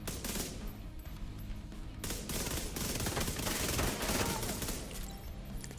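Rapid SMG gunfire in The Division video game, sustained dense bursts of automatic shots that stay loud and close throughout with barely a pause.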